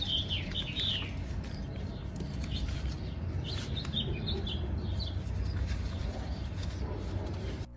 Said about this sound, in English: Listening to the birds in these clips just warms my heart.